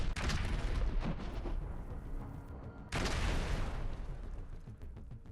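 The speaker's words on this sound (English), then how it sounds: "the Russian Air Force struck Ukrainian positions with FAB bombs" Heavy FAB aerial bombs strike military positions in bursts of rumbling, crackling blasts. Two dense explosive surges, the second about three seconds after the first, each decay into a long rolling roar, heard at a distance and fairly faint.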